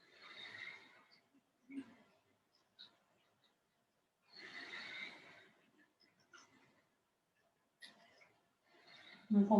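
Slow, deliberate breaths during a qigong exercise: long airy inhales and exhales, close and soft, separated by quiet pauses and a few faint rustles.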